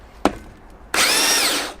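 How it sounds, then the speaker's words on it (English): A belt sander works over the bodywork of a Reliant car, starting with a sharp knock and then running loud and steady for about a second, with a whining tone that rises and falls before it cuts off. "Time for some belt sanding"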